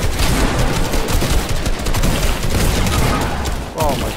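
Rapid gunfire from a shooter video game fills the whole stretch, dense and loud, with bursts and booms overlapping continuously and a brief quieter dip near the end.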